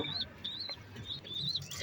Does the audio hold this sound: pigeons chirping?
yes